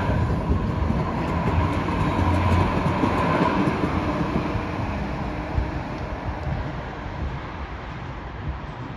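A B-Wagen light rail train running in double traction pulls out of Lohausen station in Düsseldorf, a steady, loud rumble of wheels on rails with faint clatter that slowly eases as it moves away.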